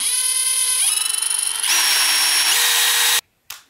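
A DeWALT DCD701 12V brushless lithium-ion drill spins up close and loud, a steady high whine that shifts pitch twice as speed changes, then cuts off abruptly and briefly restarts.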